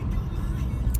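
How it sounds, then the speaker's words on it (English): Low, steady rumble from a 2017 Ford Mustang GT with a muffler delete, heavy bass exhaust drone holding through the whole short moment, close and continuous. "As you can hear, we got a little muffler delete going on."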